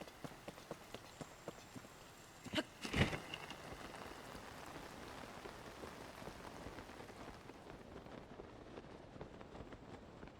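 Rain falls in a video game, Zelda Tears of the Kingdom, as a steady soft patter throughout, with a brief louder knock or footstep burst early on.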